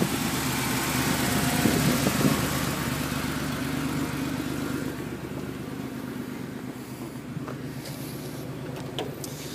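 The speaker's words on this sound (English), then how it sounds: "this is uh, probably a noisy short video of the engine bay" A Porsche 911 engine idles steadily in its engine bay with a low, even rumble, fairly loud and close, the drone settling slightly quieter toward the end.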